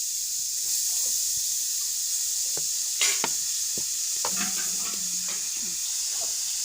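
Carrots are added to a hot kadhai and stirred, making a soft continuous sizzle broken by several sharp scraping and clinking strokes of a utensil against the pan.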